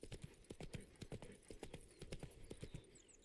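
Roach the horse trotting in The Witcher 3, a steady clip-clop of hooves on hard ground with close, distinct strikes repeating throughout, fairly quiet overall.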